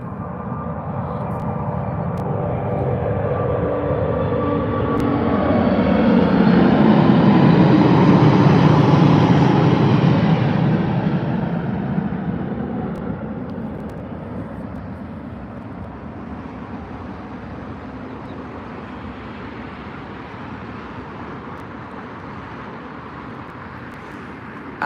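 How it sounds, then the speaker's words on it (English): A British Airways Airbus A380 takes off from London Heathrow, its engine roar swelling to a loud peak as it passes nearby, then fading into a long, lower rumble as it climbs away. "British Airways A380 from London Heathrow off to Washington."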